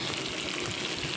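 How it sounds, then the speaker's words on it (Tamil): Fish pieces fry in well-heated oil in a pan for a fish fry, producing a dense, continuous loud sizzle that fills the whole moment without any voices. "இது எண்ணெய் நல்லா காய விட்டு போட்டுக்கோங்க."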